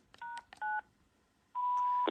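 A Panasonic phone's keypad beeps twice in short dual tones as #9 is pressed during remote access, followed after a pause by a longer steady tone, clear and fairly quiet.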